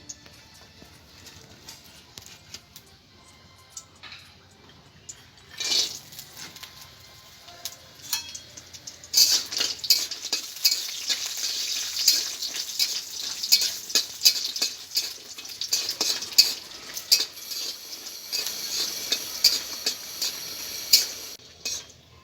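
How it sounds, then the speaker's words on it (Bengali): Pumpkin and lentil dumplings (bori) fry in white oil in a kadai over a lit stove. Faint sounds give way to steady crackling and sputtering with frequent sharp pops, fairly close and continuous. "এবার আমি এই কুমড়ো বড়িগুলো ভেজে নেব।"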